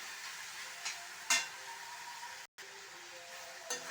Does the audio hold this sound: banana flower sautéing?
yes